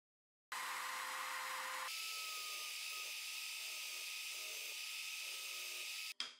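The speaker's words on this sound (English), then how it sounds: "Now I'm going to drill some holes in the back part of the table frame." A power drill bores holes into the back of a wooden table frame for a folding table-saw outfeed table, giving a steady, loud whine for about six seconds that shifts pitch partway through and stops abruptly.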